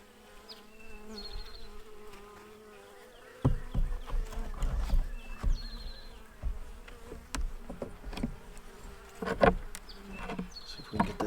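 Honeybees humming steadily in an open hive showing signs of dysentery during a frame inspection, with closer clicks and frame handling knocks breaking in partway through.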